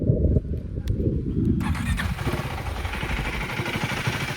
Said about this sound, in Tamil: கைஸ் இந்த பைக்கோட எக்ஸாஸ்ட் சவுண்ட் எப்படின்னு பார்த்துடலாம்.